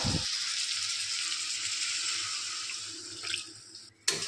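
Water running from a tap or poured steadily into a pan of cauliflower and potato curry while cooking, a continuous close hiss that wavers and splashes briefly near the end with no talking.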